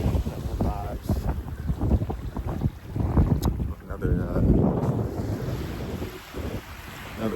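A boat moving on the sea off a beach at Diani with low tide, its rumble mixed with gusty wind noise on the microphone and surf, fairly loud and close.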